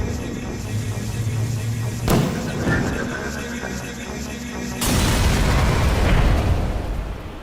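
Cartoon explosion as an animated character blows up Skibidi toilets inside a building: a sharp boom near two seconds, then a bigger, sustained rumbling blast from about five seconds on, loud over a steady background bed.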